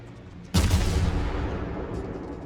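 A single heavy boom from the main guns of the Myoko heavy cruiser in World of Warships, a sharp loud blast that rolls off into a long fading rumble.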